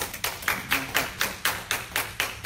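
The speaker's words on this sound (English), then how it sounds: "Come on, y'all clap for her." Hands clap in a steady, quick rhythm of about four claps per second, close and fairly loud, as people cheer someone on in a home driveway.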